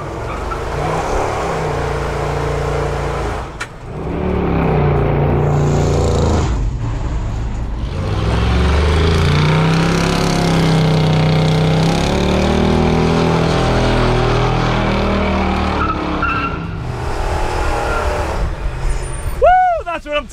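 A truck fitted with Hedman exhaust headers drives along, its engine a loud, continuous rumble that rises and falls with throttle across the run, with a brief dip partway and some talk mixed in near the end.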